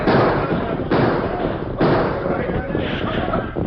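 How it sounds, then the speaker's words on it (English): Old radio drama shootout effects: three heavy booming gunshots spaced about a second apart, each decaying into a rumbling tail, with a muffled background wash. "the Gila Kid and his men opened fire"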